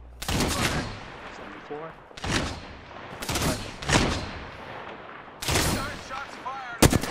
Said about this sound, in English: Nine shots fired.